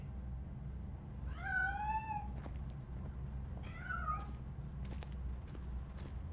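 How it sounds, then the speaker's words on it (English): A cat meows twice in the video game RoboCop: Rogue City, two clear, rising-and-falling cries a couple of seconds apart over a low ambient hum, followed by a few faint clicks. "That cat must be hiding inside."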